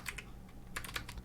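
Code being typed on a computer keyboard: soft, close keystrokes in small clusters, a couple of taps, a pause, then a quicker run of clicks, faint and with no talking.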